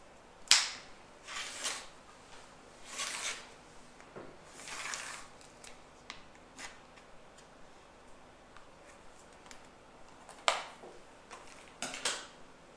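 A rotary cutter slices through folded fabric while trimming a pennant, a series of short crisp crunching strokes separated by quiet pauses, close and fairly soft, with no talking.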